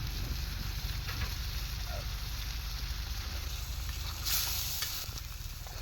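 Cumin seeds sizzle in hot oil in a pan, cooked outdoors by a riverside. The frying hiss is steady and continuous and stays at a moderate level throughout.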